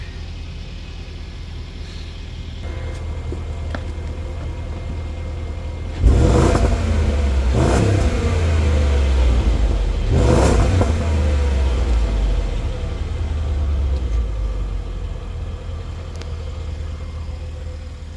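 A white 2013 Land Rover Range Rover Sport HSE idles steadily up close, then its engine revs sharply three times in quick succession before settling back to a smooth, even idle.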